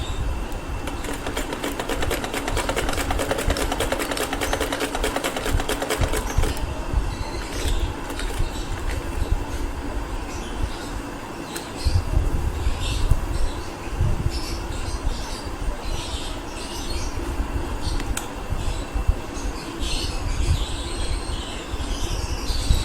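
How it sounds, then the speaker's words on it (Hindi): A sewing machine stitches an umbrella frock in a rapid, steady run of close mechanical clatter, then continues with a rougher, more uneven whir and knocking, with no talk. "देखिए कितनी इजीली हमने इसको सेट करके सिलाई लगा ली है।"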